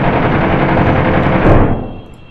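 Aircraft guns firing in barrage mode in a video game: a loud, dense, continuous burst of rapid gunfire lasting under two seconds, then cutting off to a fading tail.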